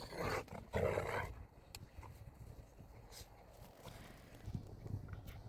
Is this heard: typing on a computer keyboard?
no